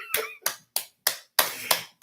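One person claps six times at close range in a steady, slightly uneven rhythm, each clap crisp and dry with brief silence between.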